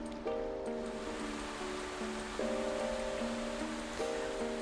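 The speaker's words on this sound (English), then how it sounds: "listening to this calming brook" Flowing brook ambience from the video game Celeste, a steady broadband water rush alone with no talk, while soft layered synth tones drift and shift over it.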